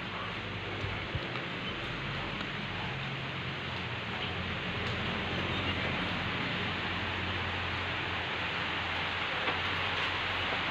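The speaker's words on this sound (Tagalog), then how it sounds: "lumakas na yung ulan" Rain grows heavier on a construction site where a first-floor slab is being poured, a steady dense hiss of downpour filling the scene at constant loudness throughout, with no talk.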